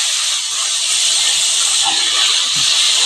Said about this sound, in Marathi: तर त्याच्यावर आपण त्या धुवून घेतलेल्या फरसबी वर टाकणार आहोत